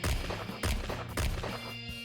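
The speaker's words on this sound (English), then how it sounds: "The policeman suddenly shouted, followed by a series of gunshots from behind." Gunshots ring out in a video game, a series of about four heavy, booming reports at roughly half-second intervals, fairly close and even in loudness.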